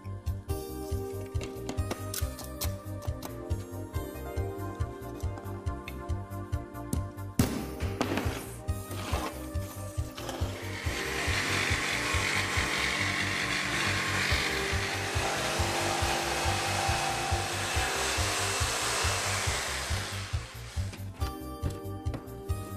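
A hand saw cuts a circle in wood, guided by a compass accessory attached to a Linemaster precision rule. Quiet rubbing strokes come first, then a longer stretch of continuous rasping sawing, all without speech.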